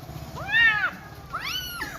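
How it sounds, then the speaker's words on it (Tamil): A cat meows twice nearby, two clear drawn-out cries about a second apart, over a low steady background hum. "பூனை பாருங்க அழகாக இருக்குது"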